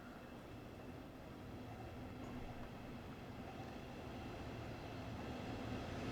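A train pulls into Hamburg Hauptbahnhof in Train Sim World 2. A steady rolling rumble rises slowly over six seconds, quiet and even, with no voices.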